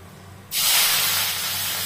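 Spices such as asafoetida, fennel seed, cinnamon, cloves, black cardamom and dried red chillies hit hot oil over low gas with a sudden loud, steady hiss that holds close and unbroken.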